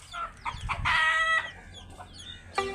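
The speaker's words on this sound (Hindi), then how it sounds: "आखिरकार अब्दुल्ला ने पकड़ लिया है मुर्गी को" A hen clucks close by in a few short bursts, then lets out a longer, drawn-out squawk, followed by a final sharp cluck.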